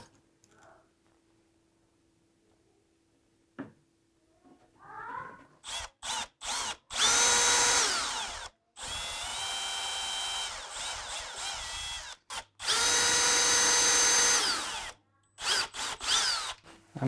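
A power drill drives screws into an appliance panel during a home renovation, with short trigger blips and then long loud whirring runs, close by, after a quiet start.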